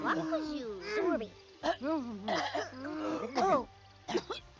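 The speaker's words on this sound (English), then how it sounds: "They're freaking coughing and freaking spitting the food out." Sims characters in The Sims 3 cough and make gagging, spluttering noises in a rapid series of bursts, several voices overlapping with a low game hum underneath.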